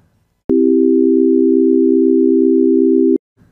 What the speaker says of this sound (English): Now let's listen to C major chord played with tones in equal temperament.